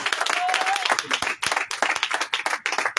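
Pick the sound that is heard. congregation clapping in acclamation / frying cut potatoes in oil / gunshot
congregation clapping in acclamation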